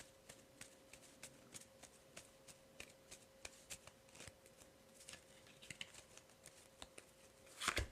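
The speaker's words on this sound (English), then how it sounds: "My guides are telling me to pull a couple of these cards." Oracle cards are shuffled and pulled by hand, a series of soft, quick riffling flicks and taps at irregular intervals, close and quiet, ending with a louder rustle.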